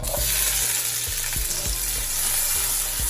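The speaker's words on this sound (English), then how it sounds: "Now let's add our grated tomatoes." Grated tomatoes frying in olive oil for a sea bass dish, a dense, loud, continuous sizzle up close with a few soft periodic thumps of stirring underneath.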